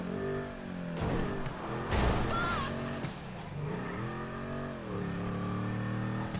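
A car engine revs in Grand Theft Auto Online, rising and falling in pitch through several throttle surges and gear shifts, loud and close, with a brief tire squeal partway through.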